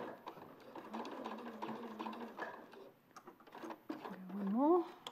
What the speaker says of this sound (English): we're just going to sew up to that point where the fold is